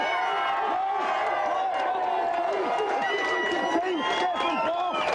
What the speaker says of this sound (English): let's have a big cheer for the Aladdin team